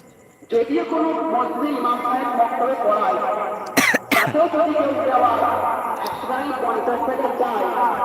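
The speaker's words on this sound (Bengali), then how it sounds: "শরীর খুব অসুস্থ প্রচুর কাশি হচ্ছে" A sick man gives a couple of sharp, close coughs in quick succession near the middle, surrounded by continuous vocal sounds before and after.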